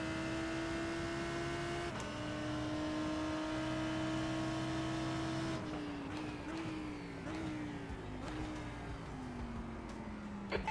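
GT3 race car engine at Circuit of the Americas in the iRacing sim, a steady droning tone that shifts pitch as the car slows, with several short clicks from downshifts near the end.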